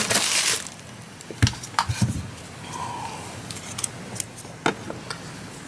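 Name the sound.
scissors cutting yarn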